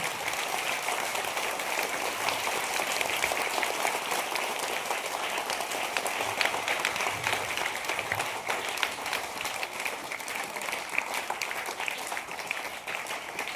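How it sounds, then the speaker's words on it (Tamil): Sustained applause from a large audience at a school event, dense steady clapping that fills the whole stretch without pause. "எல்லாரும் நம்ம சேர்ந்து ஒரு தடவை நல்ல கைத்தட்டிடுமா?"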